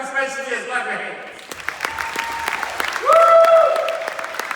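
Audience clapping at a recovery and mental-health peer-specialist talk, scattered sharp claps joined by whooping voices and a loud cheer near the end.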